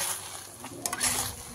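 A thick grape mithai mixture, Karachi style with dry fruits, is stirred in a kadhai, giving a close, steady scraping and sizzling sound with no voices.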